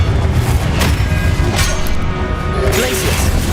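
The Confringo fire-blast spell goes off in Hogwarts Legacy with loud crashing booms and a sweeping whoosh, heavy low rumble and sharp bursts stacked into continuous battle noise.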